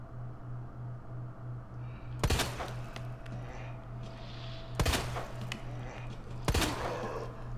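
Three sharp, loud gunshots spaced a few seconds apart in Resident Evil 2 Remake, each ringing over a low steady hum.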